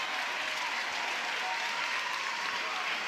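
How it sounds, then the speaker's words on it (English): Steady applause and clapping from the crowd at an NCAA Division I softball championship game between Oklahoma and California, a dense continuous patter of many hands filling the stadium at moderate distance. "There you see Patty Gasso clapping."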